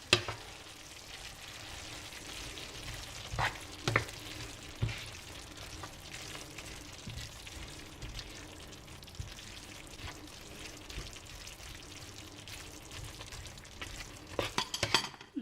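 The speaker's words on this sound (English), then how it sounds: "I'll let that simmer for a little more." A spicy meat sauce simmers in a pan, making a soft, steady bubbling and light sizzle with occasional small clinks and pops, faint and continuous.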